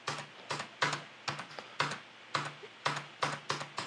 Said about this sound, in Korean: 키보드 탭키를 눌러서 우리가 잘 이동을 하는지 보는 거죠.